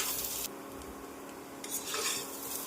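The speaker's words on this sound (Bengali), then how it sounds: "আলুটা লাল লাল করে আমি ভেজে নিচ্ছি" Potatoes browning in hot oil in a wok, a steady close sizzle with bursts of hiss and occasional scraping of a spatula against the pan, no voices.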